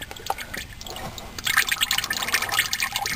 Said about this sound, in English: I'll let it drip this way a little first.